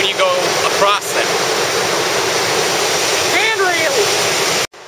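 North Fork of the Wallace River rushing near a waterfall, a loud, steady roar of water close by, with a couple of brief voices heard faintly over it.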